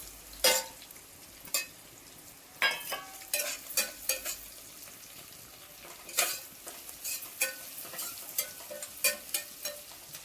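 Whole spices, including black pepper, cinnamon and dried flower buds, fry in a pot with a quiet sizzle under intermittent sharp scrapes and clinks of a spoon stirring against the metal, close and without speech.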